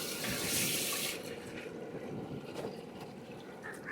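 Water being poured into a pan while making traditional halwa, a continuous splashing, gushing pour that is strongest at the start and then settles into a softer trickling flow.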